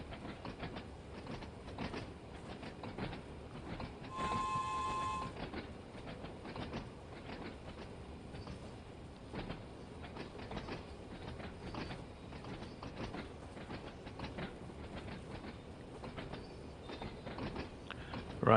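Class 101 diesel multiple unit from Train Sim World 2 on the Isle of Wight route, running with steady rolling rail noise and rhythmic clickety-clack, a brief tonal whine or chime partway through, continuous at moderate level without speech.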